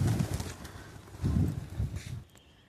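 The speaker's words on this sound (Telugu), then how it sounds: "చూడండి ఎన్ని పావురాలు." Soft, low cooing of pigeons on a rooftop terrace in irregular bursts, close by, with a brief pause before fading into quieter background near the end.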